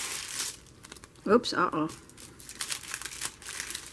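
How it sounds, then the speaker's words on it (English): Plastic wrapping on a new journal crinkles and crackles in short bursts, close up, while a voice makes brief exclamations over it. "The plastic that's supposed to stay on there just stuck to the outer plastic"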